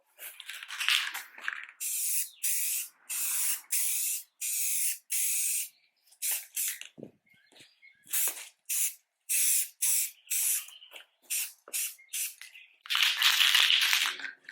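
A spray bottle mists a coat of restorer onto faded car plastic trim in a long run of short, sharp, close hissing bursts with brief pauses between them, no talking.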